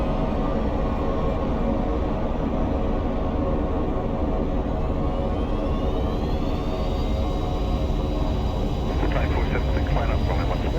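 A Cirrus Vision SF50 jet in the X-Plane 11 flight simulator spools up for takeoff, a steady loud engine roar with a rising whine, while a voice talks over it.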